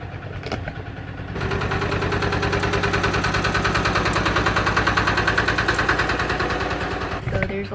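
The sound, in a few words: farm tractor driving past in the countryside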